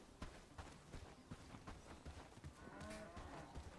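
A cow moos in the medieval village-building game Bellwright, low and drawn out over a background of footsteps and ambient farm sounds, fairly faint overall.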